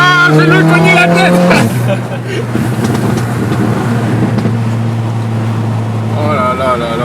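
A Mercedes-AMG engine revs loudly up close, the pitch climbing then dropping to a sustained roaring drone before rising again, with voices talking over it.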